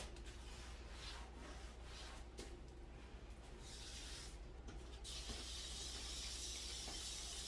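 Light sanding of a furniture surface before an epoxy top coat, a soft steady rasping scrub that continues alone throughout, faint and close, growing slightly brighter and hissier toward the end.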